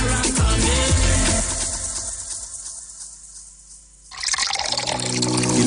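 Water pours from an Enagic water purifier in a steady, close stream, fading briefly mid-pour and then growing louder and fuller toward the end, with no talk over it.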